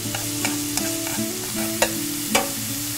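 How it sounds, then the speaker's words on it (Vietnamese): Chopped lemongrass fries in about two tablespoons of oil in a pan, a loud, close, continuous sizzle broken by sharp scraping clicks of a utensil stirring every half second or so, with no talking. "Mình cho dầu vào chảo khoảng 2 muỗng canh dầu. Và mình cho sả vào trước nè."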